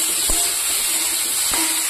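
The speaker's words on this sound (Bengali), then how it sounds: "ফুলকপিটা আমি বসিয়ে দিয়েছি ভাজার জন্য, দিয়েছি কাঁচা লঙ্কা চিড়ে আর কালো জিরে ফোড়ন" Cauliflower frying in oil in a pan with slit green chillies and black cumin seeds gives a loud, steady sizzle close by, broken by two soft knocks from stirring.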